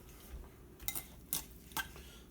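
A spoon clinks and scrapes against a bowl of homemade southern coleslaw mix in three quick, faint strokes over a quiet background.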